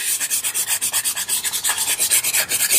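Pastel pencil sky colours being rubbed into paper, a close, steady run of rapid scratchy strokes in an even rhythm, with no voices.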